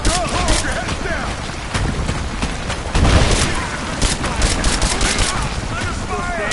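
Dense gunfire in the video game Rise of the Tomb Raider, with rapid automatic bursts and sharp shots cracking continuously, a heavy blast near the middle, and enemy soldiers shouting over the din.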